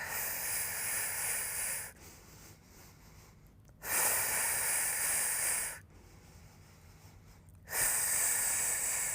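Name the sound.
breathing in and out during a Pilates plank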